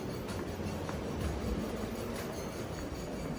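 Union Pacific model train running through a display at a railroad museum, a continuous rolling rumble with light clicking and squeaking wheel noise, steady and fairly close.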